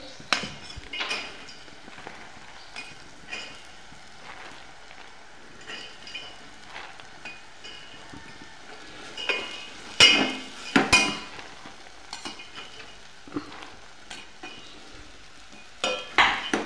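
Matki sprouts coated in masala and oil are stirred in a frying pan, with scattered scraping and clinking of the spoon against the pan over a faint sizzle, louder clatter bunching up midway and again at the end.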